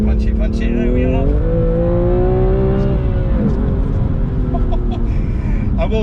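A BMW M2 CS accelerates hard on a drying race track, its engine note climbing steadily and loud throughout, with someone talking over it.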